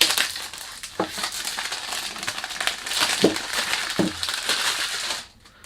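Afnan perfume packaging being unboxed, with continuous crinkling and crushing of wrapping and box material close up. Several sharper rustles and cracks punctuate the noise before it cuts off at the end.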